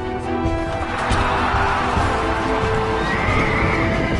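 Horses race out in an ancient hippodrome: loud whinnies and neighs ring over thudding hoofbeats and crashing clatter, all close and busy.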